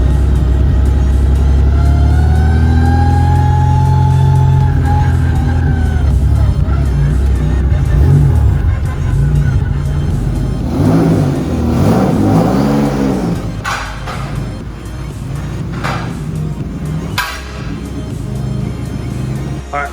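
A turbocharged BMW E36 engine with a misfire runs on a dyno, rising through a long revving pull, then dropping back with uneven, choppy bursts, loud and close throughout.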